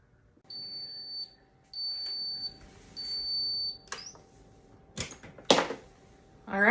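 Three evenly spaced high electronic beeps from an egg cooker signalling the eggs are done ring out, each about a second long, followed by clattering and clicking sounds nearby.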